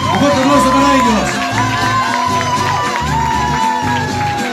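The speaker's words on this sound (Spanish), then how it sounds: "Un fuerte aplauso para ellos." A crowd at a provincial cueca dance championship at an agritourism fair cheers and shouts for a winning couple, loud and continuous, with music and voices mixed into the din.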